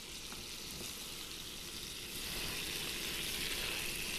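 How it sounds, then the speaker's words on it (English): Acorn squash sizzles in butter in a preheated skillet, a steady hissing fry that grows slightly louder midway and carries on alone without talk. "We have our butter, which is going into the preheated skillet. In goes the acorn squash."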